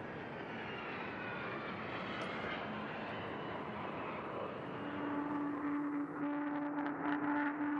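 A video game airplane taking off, its engine roaring as a broad, steady rush that swells louder as a hum rises in pitch, the aircraft climbing away.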